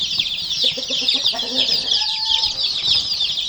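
Chickens in a cold winter coop holding new chicks, Wyandottes and other breeds, cluck in short repeated bursts over a dense, high chorus of chick peeping that runs throughout.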